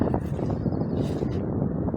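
Wind gusting outdoors in an open area by the water in Bonn, a steady broad rumble buffeting the microphone throughout, loud and continuous with no speech.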